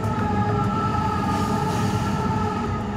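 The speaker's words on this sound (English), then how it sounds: "We're waiting for the train to come past, and then we can go on our merry way. A passenger train, and then another freighter." A passenger train rolls past in Australia with a steady, loud rumble and sustained humming tones, continuous throughout and without voices.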